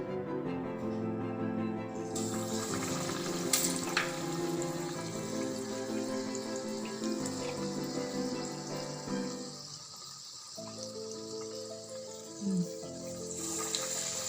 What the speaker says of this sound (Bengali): তেলটা গরম হয়ে গেছে, এবার ব্যাটারে চুবিয়ে এগুলোকে ভাজতে হবে চপের মতন করে।